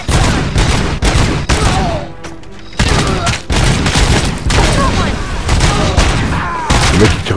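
Dense, continuous automatic gunfire from the video game Robocop: Rogue City, loud and close, in rapid bursts with only brief gaps.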